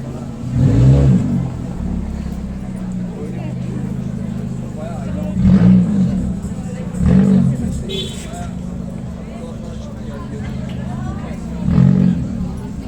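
A car passes along a busy pedestrian street near Taksim Square in Istanbul, its engine swelling up close over steady crowd babble, with several louder surges as vehicles move by and people talking nearby.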